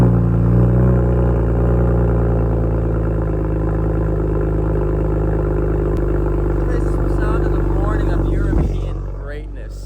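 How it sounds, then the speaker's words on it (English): A car engine on a cold morning startup, heard right at the exhaust: a loud, steady low rumble that idles evenly before dropping away near the end, with voices talking over it. "put you by the exhaust actually, and we're gonna get a morning startup"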